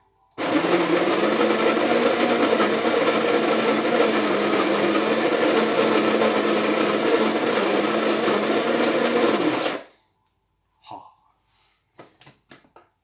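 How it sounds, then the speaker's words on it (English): A DeLonghi burr grinder grinds coffee beans in a kitchen with a loud, continuous whirring buzz close by for nearly ten seconds, then stops abruptly and is followed by a few faint clicks and knocks. "the only problem with a burr grinder is it makes such a good consistency for the machine"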